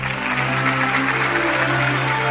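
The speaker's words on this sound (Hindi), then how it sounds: "तालियों की ये गूंज" A studio audience at a comedy show claps in a dense, continuous wash of applause, steady and loud through the short stretch, with no speech over it.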